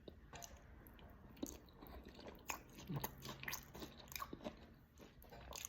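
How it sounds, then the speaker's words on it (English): Someone bites into a crunchy vegan chick parmesan, with close, quiet crisp crunches and chewing in several bursts. "You heard that crunch? I know you heard that crunch."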